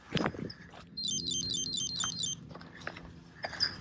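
A Garmin Fenix watch gives its off-trail alert on a hike: a quick series of about seven high, clear electronic beeps in a row, lasting roughly a second, with faint outdoor rustling and shuffling around it.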